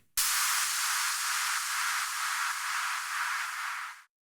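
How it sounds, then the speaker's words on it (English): A steady burst of static-like white noise effect used in a dance track drop section, loud and even for about four seconds before cutting off sharply, with no other sounds. "I have added some little noise effects that sound like this."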